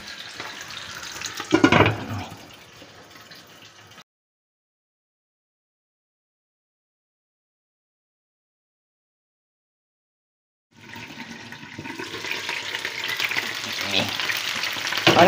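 Chicken frying in a covered pan for a stew, a dense sizzling hiss with a louder burst near the start, then a long silent gap before the frying noise returns, growing steadily louder.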